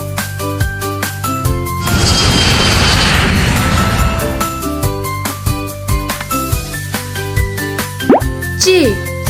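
A cartoon airplane flying sound effect for a children's Urdu alphabet lesson rises as a loud, rushing whoosh for a couple of seconds over bouncy kids' music, then fades back under the tune.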